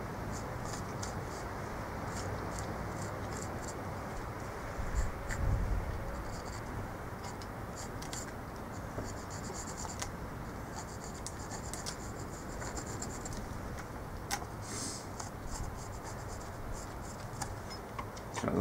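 Pencil sketching a spoon outline on a piece of cherry plum wood: a steady, soft scratchy rubbing that runs throughout, close and quiet, with a few slightly louder strokes partway through.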